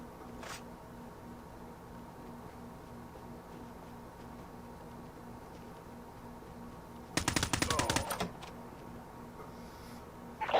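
A rapid automatic burst of gunfire rattles out in a first-person shooter video game, preceded by a lone short shot and followed by a final sharp report, over a quiet humming game ambience.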